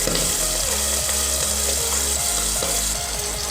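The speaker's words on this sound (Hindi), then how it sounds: "ये फिश फ्राई करते वक्त थोड़ा सा स्पिल होता है" Pabda fish frying in oil in a half-covered pan, a loud continuous crackling sizzle with fine spattering, steady and close with no voices.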